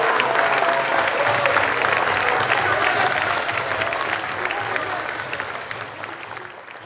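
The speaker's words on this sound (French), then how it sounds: "un tonnerre d'applaudissements à Frédéric Brando" Thunderous audience applause for an award winner at an amateur football awards evening, a dense sustained crowd of clapping that holds strong, then gradually fades toward the end, with faint voices mixed in.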